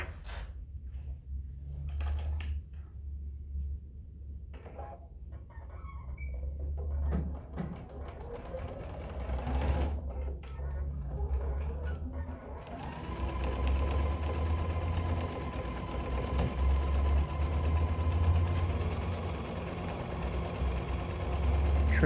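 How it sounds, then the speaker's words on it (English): A sewing machine runs a quarter-inch seam across the bottom of a fabric pocket bag, its steady mechanical whir continuing at close range, gaining a denser, more even hum in the second half. "now I'm going to sew across the bottom with my 1/4 inch seam"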